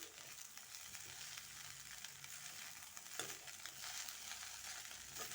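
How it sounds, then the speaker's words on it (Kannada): Ingredients for cucumber poha frying in a pan, a steady faint sizzle with occasional soft stirring scrapes, no voices. "ಎಲ್ಲವನ್ನ ಫ್ರೈ ಮಾಡಿಕೊಳ್ಳುವ"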